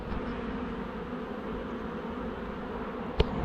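A swarm of bees being transferred into a hive, giving a dense, steady buzzing at moderate level throughout, with a single sharp knock near the end.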